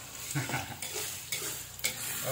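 Chicken liver and gizzard fry with blended spices in a pan, a close, steady sizzle punctuated by several scraping strokes of a utensil against the metal.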